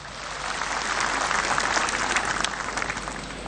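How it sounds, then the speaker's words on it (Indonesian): A hall full of delegates applauds at the third national congress of the NasDem political party. The clapping is thick and sustained, rising slightly in intensity and holding a constant roar throughout. "Tepuk tangan yang meriah hadirin sekalian."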